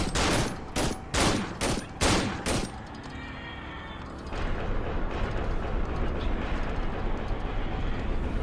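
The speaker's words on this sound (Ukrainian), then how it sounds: "Стріляє на попередження." A rapid string of about six loud gunshots in a burst in the video game Cry of Fear, followed by a rumbling, mechanical background din that swells and continues.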